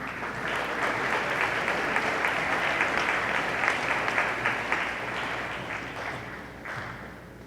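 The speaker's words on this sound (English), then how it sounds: "Please join me in a round of applause" Sustained audience applause fills a high school honors convocation hall, a dense, steady wash of many hands clapping at even loudness that tapers slightly at the end.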